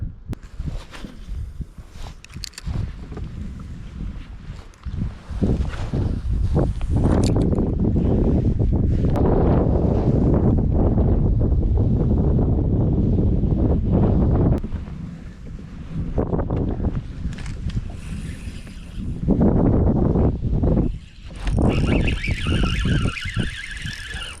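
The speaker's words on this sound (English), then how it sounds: "I was not expecting it to be this windy over here." Strong wind on Pawtuckaway Lake buffets the microphone in heavy, roaring gusts, with broad rumbling noise rising and falling throughout, loud and close, with no voices.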